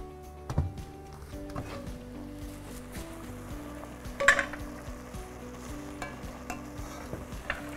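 Hünkâr beğendi sauce sizzles steadily in a pan on the stove, a continuous close frying hiss with occasional clinks and stirring knocks from utensils against the pan.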